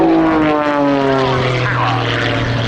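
Propeller aircraft pulling round and up into a vertical climb at an RAF Cosford airshow, a loud continuous droning engine with steady harmonic tones and slight pitch shifts, close and sustained throughout.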